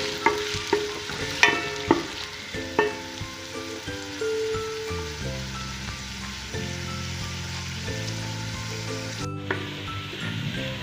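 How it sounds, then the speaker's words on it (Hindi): Onions fry golden brown in a pan for a Lahori murgh cholay, a faint soft sizzle with a few scraping stirs near the start, all under a louder tonal musical background. "प्याज को हमने गोल्डन ब्राउन कर लिया।"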